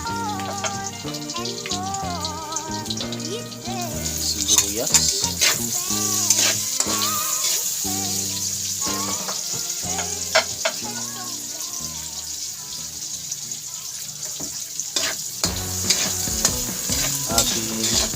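Onions sizzle and crackle steadily in a hot pan for beef caldereta while background music plays, with occasional stirring clatter throughout.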